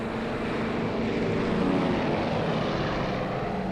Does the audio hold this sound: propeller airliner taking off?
yes